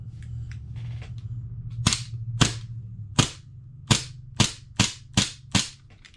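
An Elite Force 1911 CO2 gas airsoft pistol with rebuilt magazines fires about eight sharp, loud cracks. The first shots come unevenly, then the rest follow in a fairly steady rhythm with short pauses between them.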